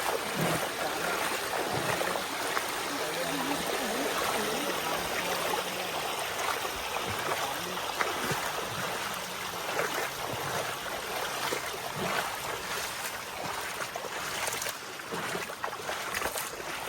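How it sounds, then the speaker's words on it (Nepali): Floodwater rushes steadily, a broad continuous roar of flowing water, loud and unbroken with no voices. "यो सबै बाढीको पानी हो भाइ।"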